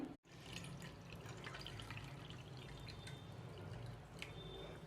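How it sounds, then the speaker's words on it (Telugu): Water pouring into a vessel of instant henna mix in a soft, steady stream with faint trickling and dripping, quiet and close, no speech. "ఇప్పుడైతే వాటర్ పోద్దాం"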